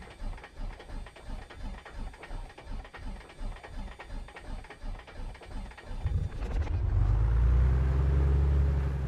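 Aerostar 600 twin piston engine turning over in a flight simulator game: about six seconds of rhythmic starter cranking pulses, then the engine catches and settles into a loud, steady low rumble.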